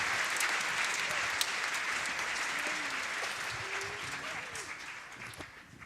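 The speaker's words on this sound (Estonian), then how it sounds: "Aplaus." Audience applause at a concert stage performance, a dense steady clatter of many hands clapping that slowly tapers off, with a couple of faint voices near the end.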